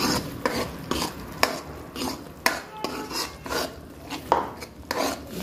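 Ground chickpea paste being stirred into cooking masala in a pan, with repeated rhythmic scraping and rubbing strokes of a spoon against the pan, close and fairly loud, about a dozen strokes over several seconds.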